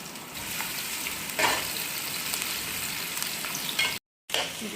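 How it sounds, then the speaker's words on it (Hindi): Carrot and chili strips sautéing in oil in a karahi, a steady sizzle with occasional stirring scrapes, continuous and close, with a brief gap of silence near the end. "इसको हम करेंगे सौते।"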